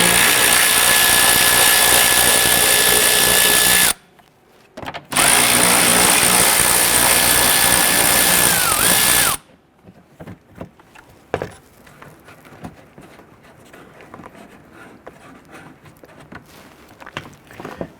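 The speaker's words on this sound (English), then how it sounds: "we're going to go ahead and remove the two 10mm bolts holding the splash shield in place" Power tool spinning out the two 10mm splash shield bolts in the wheel well of a 2012-2017 Toyota Camry, with two loud sustained whirring runs split by a short pause, then quiet clinks and handling sounds.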